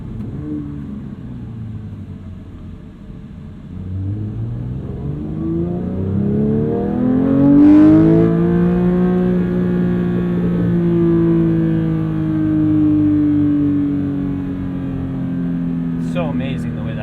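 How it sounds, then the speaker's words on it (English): A Porsche 992 911 GT3 with a manual gearbox and a flat-six engine climbs through the revs in a loud, smooth, rising howl, eases to a steady hum, then holds a sustained drone heard from inside the car. "So amazing the way that flat six hums."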